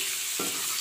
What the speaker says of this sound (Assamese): এয়া এফালে মই মাংস ভাজি আছোঁ।